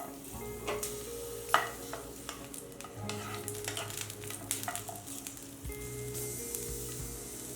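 Green chillies, ginger and garlic fry in oil in a pan, giving a steady close sizzle broken by stirring scrapes and a sharp clack near the start, with no talk.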